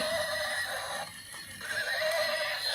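A brightly colored light-up toy pony plays an electronic neigh. The whinny is a clear, close-up call with a short break in the middle and another burst near the end.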